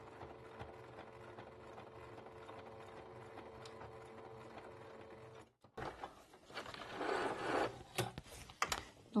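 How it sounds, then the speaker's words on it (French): Sewing machine running steadily to stitch invisible bias binding close to the fabric edge, a continuous mechanical hum that cuts out midway, followed by handling clatter and rustling of the fabric. "le but étant de ne pas coudre le tissu, mais vraiment de coudre le plus proche du tissu."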